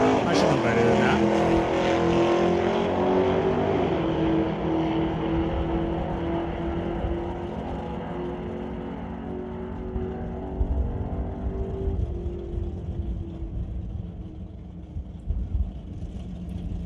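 Drag race cars launch off the line with wheel spin, their engines roaring loud and near then fading into a distant drone, with scattered crackles and a commentator's voice over the run.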